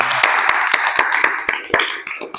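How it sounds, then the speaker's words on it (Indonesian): A classroom group applauds after a presentation, with a small number of hands clapping in a loose, uneven rhythm of distinct, close claps. "tepuk tangan untuk kelompok 2"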